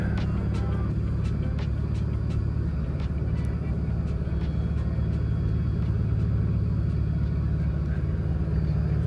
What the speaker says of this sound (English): And in a second the bridge should start to lift up.